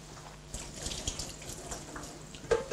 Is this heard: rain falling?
no